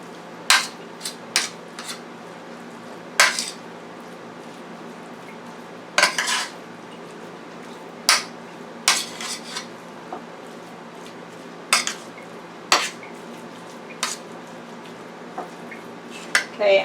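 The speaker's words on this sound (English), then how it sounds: "Now we're going to mix this up." Pulled turkey being mixed with sweet and spicy barbecue sauce in a bowl, with scattered clinks and scrapes of a utensil against the dish at irregular intervals, close and fairly quiet, without any talking.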